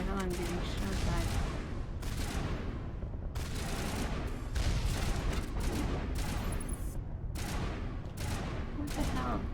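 Batarian enemies in the video game Mass Effect keep up dense, continuous gunfire, with loud rapid volleys and bursts broken by brief gaps.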